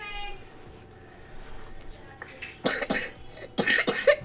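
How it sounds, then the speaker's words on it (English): A young boy coughs in short bursts, close by, in a quiet home room on Thanksgiving, with a few coughs near the middle and a louder cluster toward the end. "we gotta get that cough out of you"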